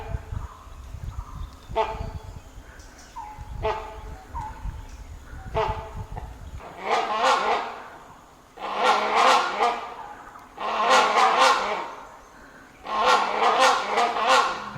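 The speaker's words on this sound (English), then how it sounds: "This is the sound of the great Indian hornbill." A great Indian hornbill calls in Kaziranga National Park, giving four loud, harsh, honking bursts in a row after a stretch of quieter sounds at the start.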